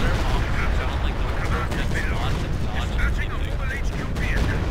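Light artillery firing in a video game battle, a dense continuous barrage of booms and mechanical clatter held loud throughout, with chatter layered over it.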